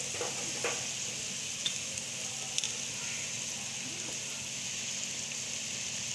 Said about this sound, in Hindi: अच्छी तरह से भूनूंगी और इसको अच्छी तरह से फ्राई कर लूँ।